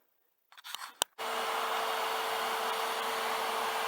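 A few sharp clicks and rattles, then a vacuum being pulled on the coolant system of a 7.3 engine during a coolant sensor change, a loud steady hissing roar that runs on without a break.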